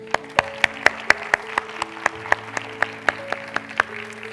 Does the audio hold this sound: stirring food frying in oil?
no